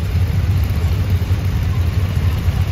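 A 1948 Mighty Mite Model 10 antique tractor running in a show parade, its low, steady engine chugging close by and fairly loud, with a continuous rumble and no talk over it.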